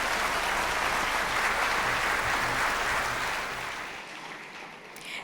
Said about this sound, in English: Give them a round of applause as they leave the stage.